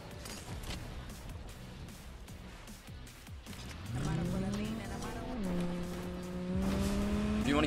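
A car being driven in Fortnite, one of the free cars from the Rocket League crossover, its engine humming low and then revving up partway through into a steady, climbing drone over gameplay noise.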